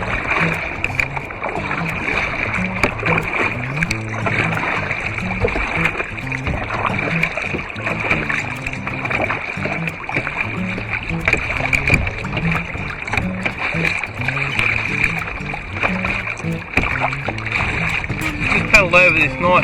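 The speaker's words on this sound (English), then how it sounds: "Just paddle over here." A kayak is paddled across water over a reef on a squid-fishing outing, with steady close splashing and dripping strokes under a constant hiss of wind and water.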